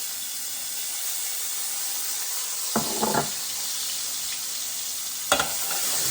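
Garlic fries in a tablespoon of oil for spaghetti sauce, a steady close hiss of sizzling with a few brief clinks of a utensil stirring the pan.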